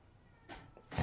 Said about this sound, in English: You can hear the cat over there.